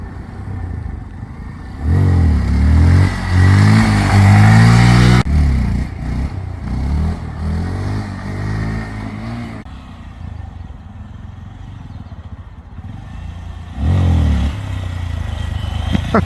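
Honda Grom motorcycle engine revving hard during a first wheelie attempt, with surging bursts of acceleration, a quieter lull in between, and another rev near the end, recorded close with wind noise.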